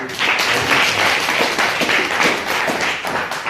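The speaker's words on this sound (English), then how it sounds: "Just clap for yourselves for following me." Students in a Grade 9 maths class clapping together, a dense burst of applause with scattered sharper claps, steady and moderately loud for a few seconds.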